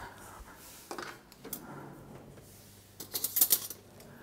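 A metal tablespoon is picked up and handled in a kitchen during rye bread baking, with a few light clinks and taps followed by a brighter cluster of metallic rattles near the end.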